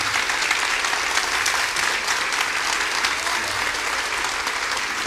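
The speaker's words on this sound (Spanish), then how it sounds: "si se puede poner en pie y recibir con un fuerte aplauso a Agustín Laje en este día aquí en Presencia" Audience in a church gathering stands and gives a loud, sustained round of applause, dense and steady throughout without break.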